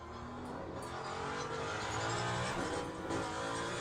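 A Ferrari hypercar engine in the Le Mans Ultimate racing game roars at sustained high revs, a steady dense drone with faint tire noise, heard fairly quietly and without speech.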